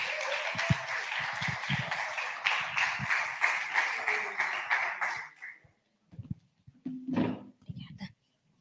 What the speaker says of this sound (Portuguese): Salve de palmas, por favor.